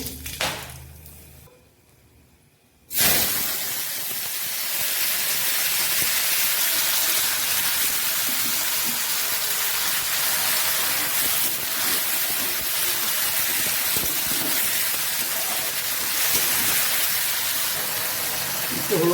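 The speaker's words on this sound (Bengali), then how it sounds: "এবং দুটো শুকনো লঙ্কা ফোড়ন দিয়ে দিচ্ছি" Two dried red chillies hit hot oil in a wok, bursting into a loud, steady sizzle that starts abruptly after a quiet moment and hisses on continuously.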